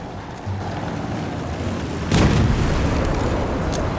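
In the World War 3 video game, a single heavy explosion booms out midway through, over a constant roar of battlefield noise.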